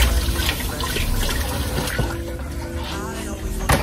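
Potatoes are rinsed under running tap water in a steady, loud splashing rush, with a voice speaking over it.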